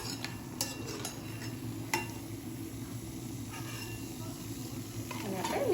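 Kasoori methi puris fry in hot oil with a steady, soft sizzle, broken by a few light clinks and stirring scrapes of a utensil against the pan, the bubbling growing slightly louder toward the end.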